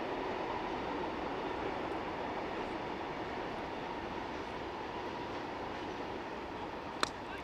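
A local train passes near a cricket ground, heard as a steady, moderately faint rumble with a continuous rolling drone. A single sharp click lands near the end.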